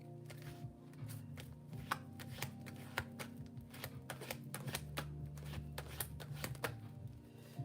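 Tarot cards being shuffled, a dense run of quick papery riffles and taps going steadily for several seconds, close and crisp with no talking.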